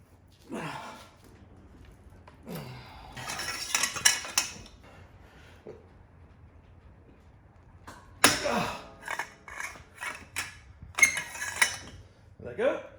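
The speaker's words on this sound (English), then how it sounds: "The least fun part about any work here on the front hub, U-joints, whatever, is getting this dang axle nut off" An axle nut being worked off a truck's front wheel hub: metallic clinks and clanks of tools on steel come in bursts, with quiet pauses between them. Someone speaks between the bursts.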